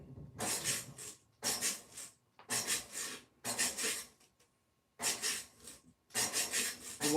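Spatula scraping sugar from the sides of a tilt-head KitchenAid stand mixer bowl during cranberry muffin prep, six close, rasping strokes of about a second each, separated by short pauses, with no talk.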